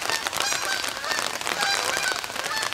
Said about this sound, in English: What in the world, a bunch of geese.